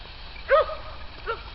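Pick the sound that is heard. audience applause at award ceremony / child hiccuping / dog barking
dog barking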